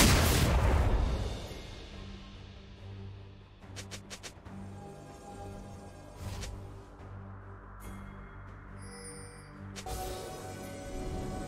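A turret crumbling in League of Legends, with a loud booming blast up front that settles into layered game effects, tonal chimes and steady background music.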